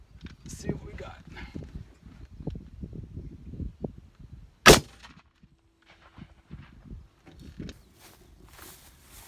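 A single loud, sharp gunshot from an AR-15 pistol fitted with an arm brace cracks out at mid-clip, set among outdoor footsteps, handling noise and someone talking before and after.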